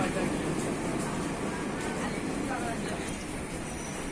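A train arrives at the old Ishwardi railway station, rumbling steadily nearby with broad, constant mechanical noise and faint clanks, loud throughout with no pauses.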